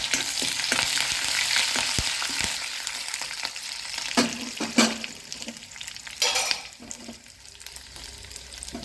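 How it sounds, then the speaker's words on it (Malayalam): Shallots, curry leaves and dried chilies frying in hot oil for a carrot and long-bean upperi produce a loud, steady close sizzle, with brief stirring scrapes and a few brighter crackling bursts partway through. "ഇതിൻ്റെ കൂട്ടത്തിൽ ചുവന്നുള്ളി ചേർത്ത് കൊടുത്തു."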